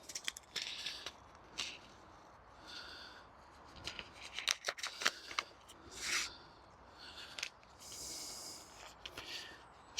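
Cutting among radish plants in an outdoor spring vegetable field: irregular snips, rustles and crackles of foliage, scattered quiet sharp clicks with occasional louder brushing swishes, close and fairly faint.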